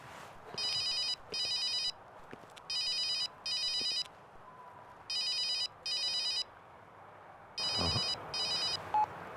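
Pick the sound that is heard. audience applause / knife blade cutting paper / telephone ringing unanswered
telephone ringing unanswered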